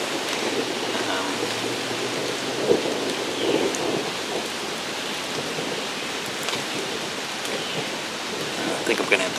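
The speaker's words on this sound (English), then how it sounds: "Storm's coming in pretty good." Thunderstorm with steady rain pouring outdoors: a continuous broadband wash of rainfall with low rumbling thunder running throughout and a few louder cracks and gusts rising above it.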